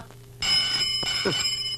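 A telephone bell bursts into loud, continuous ringing after a brief quiet moment in a home during a prayer scene, the bright metallic ring sustained to the end with no talking.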